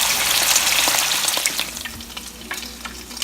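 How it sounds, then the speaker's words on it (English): Cheesy bacon poppers fry in a pan, giving off loud, dense sizzling with scattered pops and crackles that slowly ease. "I'm going to go ahead and fry up the rest of them"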